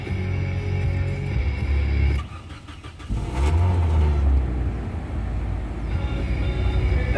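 A 2008 Suzuki Forenza engine with about 119,000 miles running just after startup, a steady close idle that dips briefly and then comes back up, unevenly.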